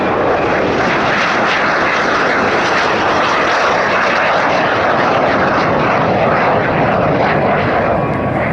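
A Lockheed CT-33 Shooting Star jet trainer flying at the Orléans 2025 air show, a loud, continuous roaring engine rush that fills the whole stretch, steady and close, with no voices.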